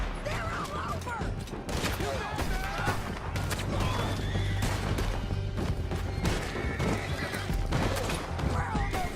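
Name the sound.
horses in a video game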